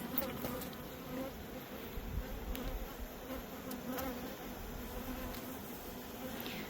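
A steady, dense buzzing of many bees around an insulated hive fills the air continuously, close by and fairly loud, with no voices.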